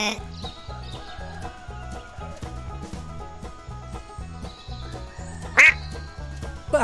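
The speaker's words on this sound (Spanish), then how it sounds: "Pato." A duck quacks repeatedly in a steady rhythm over a looping musical backing in a children's farm-animal sounds piece, with a brief sharp accent near the end.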